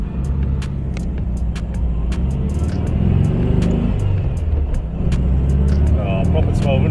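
Air-cooled 1200 engine of a 1956/58 VW Karmann Beetle cabriolet, roughly 30 horsepower, running with a steady low rumble throughout while people talk over it and sharp clicks cut in.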